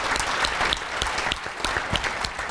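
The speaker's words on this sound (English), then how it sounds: "Maybe one round of applause." Audience at a child care policy breakfast applauds a panel, a dense, steady wash of many hands clapping close and loud throughout, with no talk over it.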